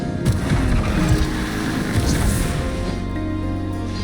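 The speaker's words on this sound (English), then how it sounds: "Rev the engines!" Motorboat engine revving at full throttle in the video game Genshin Impact, a steady loud broadband roar with water and wind wash throughout, no talk.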